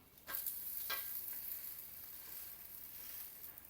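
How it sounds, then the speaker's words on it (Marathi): An akki roti, a Karnataka rice-flour flatbread, sizzles on a hot pan just after being flipped, a steady close hiss with a couple of soft scraping taps near the start and no voices. "आता आपण हे पलटून घेऊ आणि दुसऱ्या बाजूने पण शेकून घेऊ"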